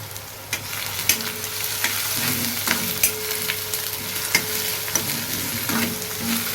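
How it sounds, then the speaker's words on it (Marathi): Steady sizzling of onions frying in oil for a Konkani chicken masala, with intermittent scraping and stirring clicks from a spatula throughout. "कांदा मस्त व्यवस्थित परतून घेऊ तेलामध्ये"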